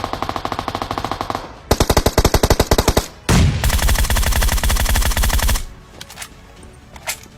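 Automatic gunfire from a PUBG battle-royale game: several rapid machine-gun bursts with short gaps, then a long continuous stream of shots that cuts off, followed by a few scattered single shots, loud and close.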